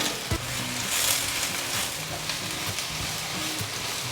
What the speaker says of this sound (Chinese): 趕快翻炒一下